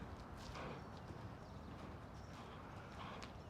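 A horse canters nearby with a continuous, fairly faint rumble of hoofbeats on soft ground during a dressage and western schooling session.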